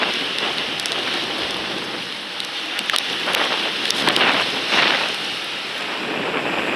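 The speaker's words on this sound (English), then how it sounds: "There's a bit of a squall right now." Steady heavy rain from a squall hisses in a dense, continuous wash over a sailboat at sea, swelling slightly in a few gusts.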